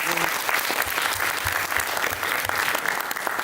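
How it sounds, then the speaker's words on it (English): A school audience at a personal project exhibition breaks into dense, steady applause for a student's taekwondo presentation, loud and continuous throughout with no pause. "Can we just give him a round of applause for that?"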